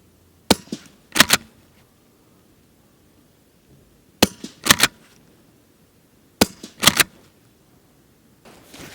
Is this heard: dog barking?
no